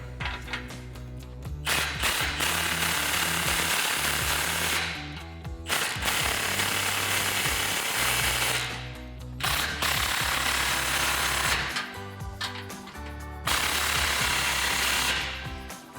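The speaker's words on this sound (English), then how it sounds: "we'll final tighten everything down with our 15mm socket" Exhaust bolts on a 2009–2018 Ram 1500 with a 5.7-liter engine and a muffler delete being driven tight with a 15mm socket: loud, buzzing power-tool bursts of several seconds each, separated by short pauses, close up with no speech.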